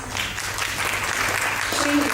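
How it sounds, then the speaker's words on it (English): A conference audience claps together in a dense, steady round of applause at an inauguration, with a voice speaking over it toward the end. "Please, on a big applause, please."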